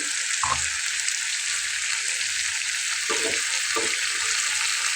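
Okra fries with poppy seeds in a pan, a steady, loud hiss of oil with a few soft stirring scrapes, no voices.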